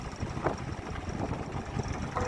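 Strong wind buffets a fishing boat out at sea, a steady broadband rush with low rumbling gusts running through the whole stretch, loud and continuous with no voices.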